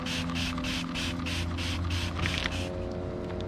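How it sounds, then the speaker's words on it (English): A spray cleaner is pumped in a series of about eight quick rhythmic hissing bursts over a dirty, moldy window air conditioner, close and fairly loud over a steady mechanical hum. "I'm going to spray both sides of this."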